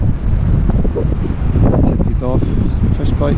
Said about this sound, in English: It's so windy though, so I got to keep everything secured.